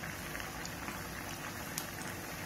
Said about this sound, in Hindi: ये हमारे ये मंचूरियन हो रहे हैं, ये बॉल्स अच्छे से सिक रहे हैं।